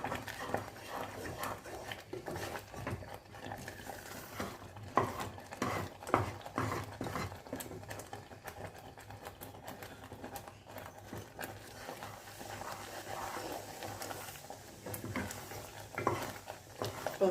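Thick tamarind candy mixture is stirred in a pan, giving repeated scraping and sticky knocking strokes in an uneven rhythm, close and fairly quiet, with no speech.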